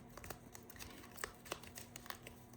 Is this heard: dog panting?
no